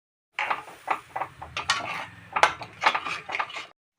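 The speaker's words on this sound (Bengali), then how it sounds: "এখন আমি নারকেলের দুধটা দিয়ে দেব দিয়ে এখন অনবরত নাড়া দিতে থাকবো" A spoon stirs coconut milk into cooked-down masala for a prawn malai curry, giving a steady run of scraping and clinking against the pan, close and fairly loud, with no talk.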